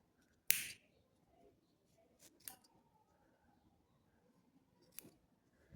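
Scissors snip the loose end of yarn on a knitted cat-ear hat, one sharp close snip followed by two fainter cutting clicks against a quiet room, with no talking.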